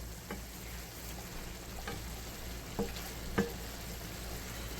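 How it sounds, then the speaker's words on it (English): Spinach sautés in a pan Korean style, a steady soft frying hiss with a few light clicks and utensil taps over a constant low hum, no voices. "I'm saute up some spinach, Korean style."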